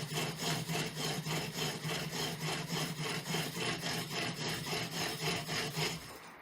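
A homemade pump drill spins into wood with a steady back-and-forth rasping, about two strokes per second in an even rhythm, close up and alone before stopping at the end.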